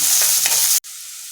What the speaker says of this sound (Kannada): ಇದು ಒಂದು ಸ್ವಲ್ಪ ಈಗ ನಾವು ಇದನ್ನು ಫ್ರೈ ಮಾಡ್ಕೊಳ್ಳೋಣ